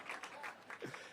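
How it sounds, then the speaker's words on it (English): A brief burst of audience applause at a health center re-dedication event, faint and scattered claps with a voice briefly heard over them. "So can we give Davis a big round of applause?"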